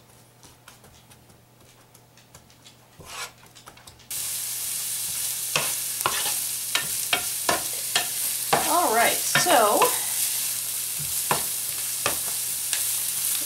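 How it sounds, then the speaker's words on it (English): Onions sizzle steadily in a pan after a quiet start, with sharp clacks and scraping from a utensil stirring and knocking against the pan. "onions are now sizzling nicely."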